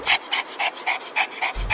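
A dog pants rapidly and close by, with six or seven quick rhythmic breaths in under two seconds.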